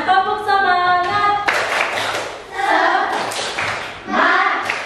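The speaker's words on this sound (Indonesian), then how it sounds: "Kita tepuk semangat. Tepuk semangat." Children in a classroom perform a rhythmic clapping chant, their sung voices and claps close and loud, sustained in bursts with brief dips between phrases.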